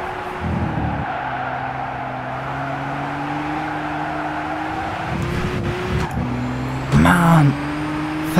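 A race car in the Gran Turismo 6 demo running at speed with a steady engine whine, punctuated by several bursts of tire squeal and skidding from braking too late, the loudest skid near the end.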